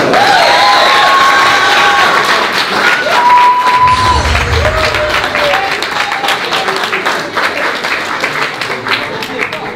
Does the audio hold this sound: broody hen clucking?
no